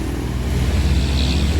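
A Sriwijaya bus engine rumbling steadily and loudly close by, a low continuous drone with slight revving and no talking.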